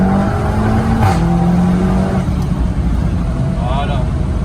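Cupra car pulling away after a shift into second gear on a small road, the engine note rising loud and close while someone talks over it.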